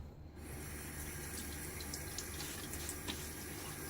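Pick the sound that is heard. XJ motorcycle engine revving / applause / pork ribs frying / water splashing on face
water splashing on face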